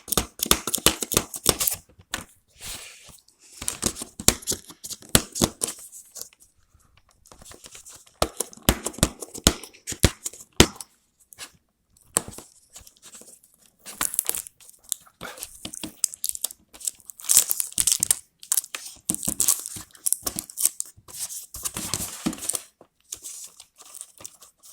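Razor packaging for a OneBlade sealed with adhesive tape is pried open, with dense close crinkling, tearing and crunching of plastic and tape in irregular bursts and short gaps, with no talking.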